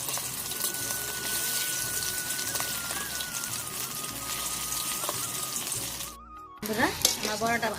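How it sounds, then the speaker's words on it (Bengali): Taro flower fritters frying in hot oil: a dense, close, continuous sizzle that fades briefly near the end, followed by a short burst of sharper crackling. "আমার বড়াটা ভাজা হয়েছে, লাল লাল করে ভাজছি"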